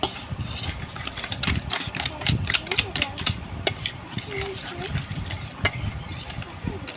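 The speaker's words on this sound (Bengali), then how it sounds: "চিনি আর ডিমটাকে আমি ভালো মতো ফাটিয়ে নিব" Sugar and eggs for a chocolate cake are beaten by hand in a bowl, making a rapid, irregular clatter and tapping of the whisk against the bowl, with a voice talking at times.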